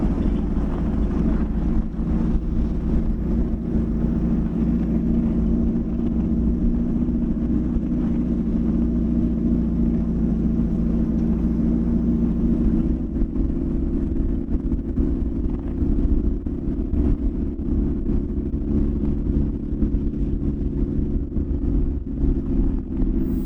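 A Duramax-swapped deuce military truck drives through snow, its deep diesel drone steady and low under heavy wind buffeting on the microphone, with a slight shift in tone partway through.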